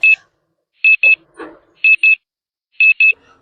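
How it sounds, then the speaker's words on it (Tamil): Alarm clock beeping in a bedroom, sounding in three paired bursts of bright electronic tones spaced about a second apart, with a brief soft rustle between the first pairs. "அதுக்குள்ள அலாரம் வேற அடிக்குது"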